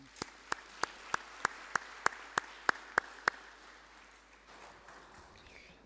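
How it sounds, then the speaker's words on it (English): A single person clapping slowly in a steady rhythm of about ten sharp claps at a forestry conference session, followed by a quieter stretch of faint room sound and scattered light claps. "So please give a warm round of applause to our 5 presenters."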